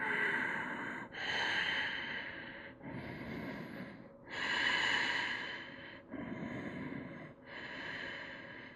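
Deep, slow breathing during a yoga triangle pose, heard close and clear: about six long, airy inhales and exhales in a steady rhythm, with no talk.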